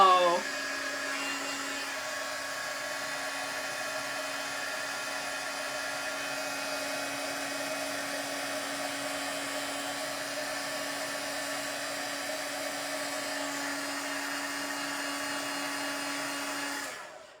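A heat embossing tool blows at a steady, moderate whine with a tonal hum throughout, starting abruptly and cutting off at the end, with no talk.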